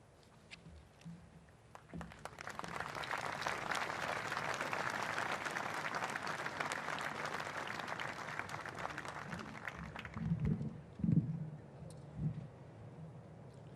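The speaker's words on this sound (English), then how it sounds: "big round of applause again for our Governor, Margaret Beasley" A crowd at an outdoor Australia Day morning ceremony applauds steadily for several seconds, soft and somewhat distant, then the clapping thins out as a voice begins speaking near the end.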